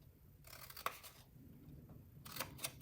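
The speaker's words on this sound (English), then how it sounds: "I'm going to cut along the bottom, up the vertical score lines to the first horizontal score line." Scissors snip through cardstock along score lines for the bottom of a small hand sanitizer gift box, two quiet bursts of crisp cutting, close and alone with no talk.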